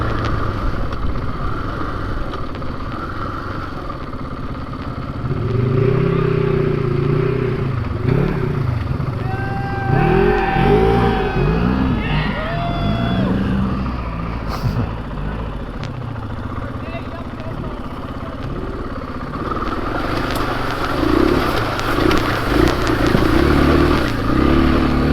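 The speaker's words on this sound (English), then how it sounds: "Gosh, there's a lot of traffic on this trail." Dirt bikes pass along a trail, engines revving and droning close by with clattering, rising and falling as they go, while a rider talks over the noise.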